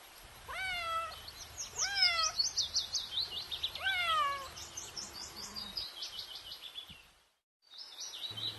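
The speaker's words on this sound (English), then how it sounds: "C for cat. C for cat." A cat meows several times in clear, rising-and-falling calls with brief pauses between them, close and fairly loud, with bird chirps mixed in around the meows.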